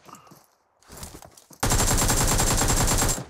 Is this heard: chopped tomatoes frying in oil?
no